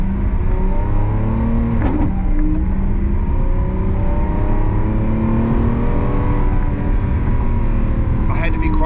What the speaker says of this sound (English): those revs weren't even that loud, and that was pretty throaty